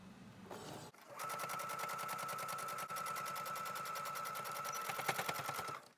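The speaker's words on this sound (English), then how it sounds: "After ironing, you sew where you folded." A sewing machine stitches a folded hem on a fabric mask in a steady rapid run of needle clatter lasting several seconds, preceded by a brief handling noise.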